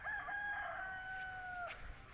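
A rooster crows once at dawn near a misty hillside at Maragondon. It gives a single drawn-out, fairly faint cock-a-doodle-doo that falls off at the end, with no talk over it.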